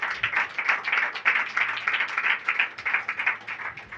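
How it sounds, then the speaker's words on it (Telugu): A church congregation claps hands together in a steady, lively rhythm, many hands beating fast and even throughout, fairly close and loud with no voices on top. "అందరూ ఒకసారి చప్పట్లు కొట్టండి"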